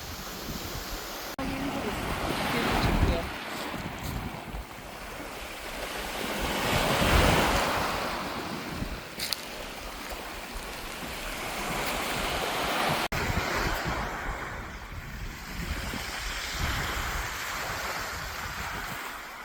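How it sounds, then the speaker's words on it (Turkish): Ocean waves break and wash steadily on a windy shore, loud broadband surf rising and falling in surges, with wind buffeting the microphone throughout. "Ay dalgalar müthiş ya."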